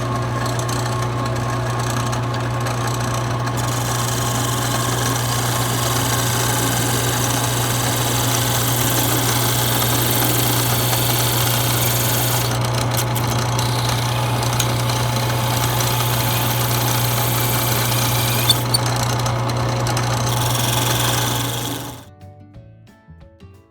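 A wood lathe spins a rosewood pen blank for a gold executive pen, a steady loud motor hum with occasional light tool contact from a parting tool, running continuously before winding down at the end.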